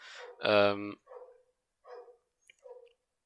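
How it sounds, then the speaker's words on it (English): A neighbor's dog barks at skateboarders out in the street: one loud, harmonic bark close up, followed by several quieter, shorter yips and barks spaced out over the next two seconds. "it's my neighbor's dog who's been barking at skateboarders in the street"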